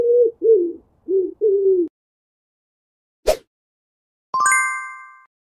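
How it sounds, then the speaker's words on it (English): A pigeon coos in a kids' animal-name game, four soft throaty coos in a row, then a sharp click and a bright ringing chime tone, all clear and close with no speech. "Pigeon."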